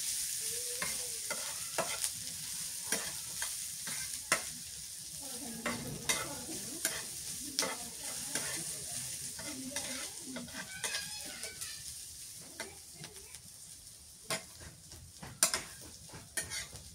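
Food frying in mustard oil in a pan at home, with steady sizzling and repeated sharp clicks of a utensil stirring and scraping the pan through the whole stretch.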